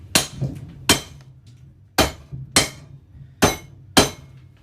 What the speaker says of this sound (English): what we want to do is bash it